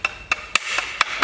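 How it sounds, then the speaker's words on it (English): A light hammer tap on a metal window bracket being fitted into a window frame, heard as five sharp, close knocks spaced at irregular intervals over about a second. "this little tap with a hammer allows you to build"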